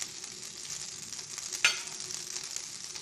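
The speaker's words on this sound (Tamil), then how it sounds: "பட்டர் விட்டு இந்த பிரெட் இது மாதிரி ஒன் சைட் நல்லா ஃப்ரை பண்ணலாம்" Bread frying in butter in a hot pan, a steady close hissing sizzle with one brief louder crackle partway through.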